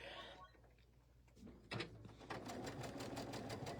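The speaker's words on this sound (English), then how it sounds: "we're going to stitch again on the diagonal" A sewing machine stitches fabric on the diagonal, very quiet and close, starting after a soft pause and then running as a steady rapid rattle.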